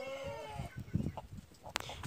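A chicken clucks in short, soft bursts at close range, with a faint bird-like squawk near the end over low background noise.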